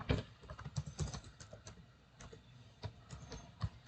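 A computer keyboard clatters as a file name is typed, giving quick, uneven clicks close up with short pauses between bursts and no talking.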